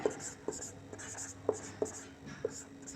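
Chalk or marker writing maths on a board, a series of faint taps and short strokes in an irregular rhythm, heard quietly with a little background noise.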